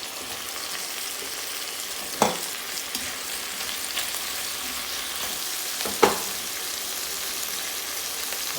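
Carrots, mushrooms and bay leaves sizzle in a pot while pot roast cooks Filipino style, a steady frying hiss broken by two sharp knocks of a utensil against the pot.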